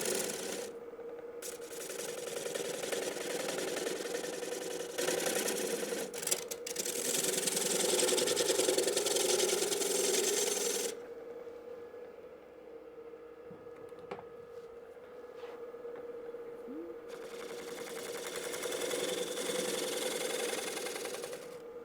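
Wood lathe spinning at 600 RPM while a bowl tenon is trued up, a steady mechanical hum with bursts of gouge cutting noise that start and stop.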